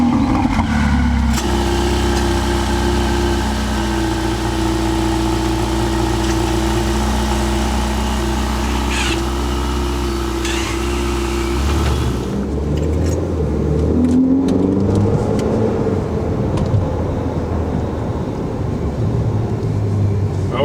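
A Ferrari 488 GTB engine idles with a steady, deep, even rumble, then revs, its pitch rising and falling over the last several seconds, loud and close with no talk over it.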